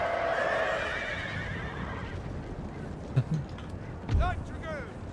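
A horse whinnies loudly twice near the end, with hoofbeats and a dull rumble of battle noise underneath, in the video game Napoleon: Total War.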